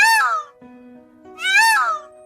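A cat meows twice, loud and close, each a rising then falling cry with a short quiet pause between them.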